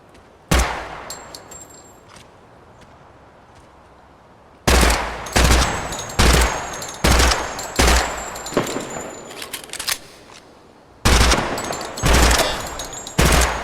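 Bursts of rifle fire from 5.56 and .30-06 weapons during a test session: a lone sharp shot, then rapid strings of loud, closely spaced cracks, a pause, and another volley, each report ringing briefly.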